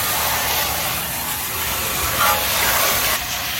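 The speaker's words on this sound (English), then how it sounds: "First thing to do is lightly from the inside spray out." A steady, loud hiss of water sprayed onto an air conditioner condenser sounds up close, with a slight surge partway through and no voices.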